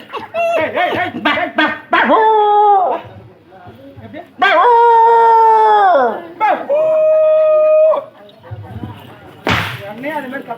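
Stage comedy performers in a Tamil drama troupe imitate a dog's howls and barks with their voices, giving long rising and falling wails between short yelps, loud and close, with laughter mixed in.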